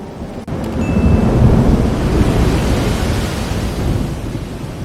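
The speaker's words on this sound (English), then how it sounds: "Thunder rolled across the sea." Thunder rolls over the sea in a storm, a loud, continuous deep rumble blended with the steady hiss of heavy rain and wind, sustained without a break.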